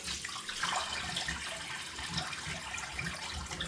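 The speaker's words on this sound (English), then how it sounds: "Let's take some of this water out," Water drains and splashes out of a bathroom sink at shaving time, a soft steady gurgling rush that carries on faintly and evenly.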